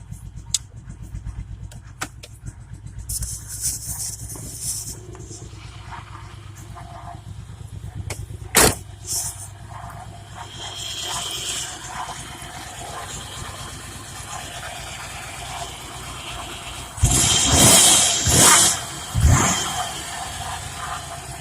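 A car, not the speaker's own, that is low on gas, idles and runs while reversing, a steady engine hum with brief revs and a louder surge near the end.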